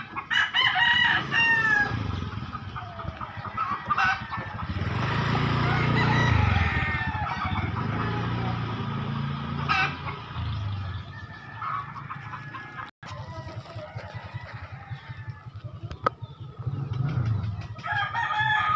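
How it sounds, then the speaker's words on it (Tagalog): Roosters crow repeatedly and hens cluck among poultry pens in a rural area of Caloocan. The calls are moderately loud and overlap over a constant background murmur. "Napadaan na ako dito sa mga manukan."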